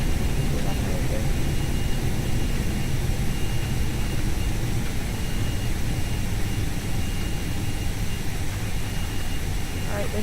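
Reverse thrust from a Boeing 737-300 Classic just after landing in X-Plane 11 gives a loud, continuous broadband jet roar that holds steady throughout, close and unbroken, with no voices.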